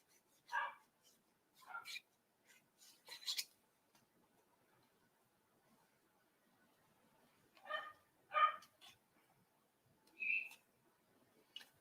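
Several puppies bark in short, separated bursts indoors, with a few yips and gaps of near-silence between them, fairly faint and close by.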